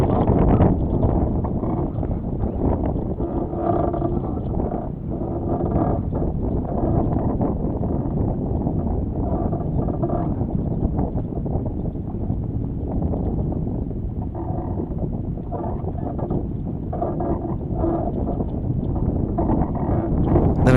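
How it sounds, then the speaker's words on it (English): Wind roars and buffets the microphone aboard a sailboat during a sudden gust and wind shift, a continuous heavy rumble with water sounds beneath. "Sudden wind shift there."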